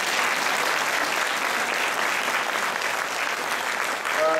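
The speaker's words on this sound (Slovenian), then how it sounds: "Se boste vi kakšen aplavz dali, da ste sem prišli danes?" Steady, full applause from a crowd at a volunteers' gathering, even dense clapping sustained throughout, with a brief voice surfacing at the very end.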